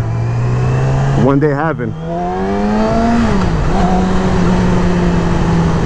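A 2020 Yamaha R6 sport motorcycle on a test ride, its engine holding a steady high drone that climbs and dips with throttle changes, loud and close, while a rider talks over the noise.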